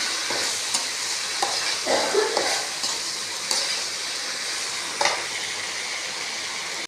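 Okra, carrot and tomato stirred in a frying pan while making sambar, a steady close sizzle broken by several scraping stirs of a spoon against the pan.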